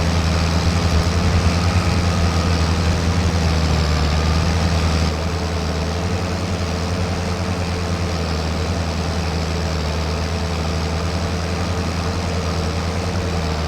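A farm tractor engine idling at hay-making time, a steady low rumble with a constant hum that runs throughout and drops slightly in level partway, no talking.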